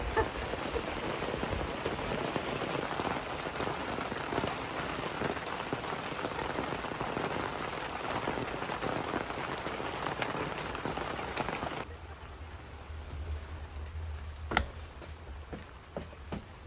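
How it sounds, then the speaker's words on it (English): Steady rain drums on a garden polytunnel cover in July, a dense, constant patter close overhead. Partway through it turns softer and duller, with a few louder drips landing now and then. "It has been raining for days."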